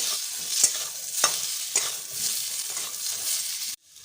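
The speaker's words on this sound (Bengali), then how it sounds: "আলুগুলো আমার ভাজা হয়ে গেছে" Steady sizzling of potatoes frying in a pan, with a few sharp stirring clicks, ending abruptly.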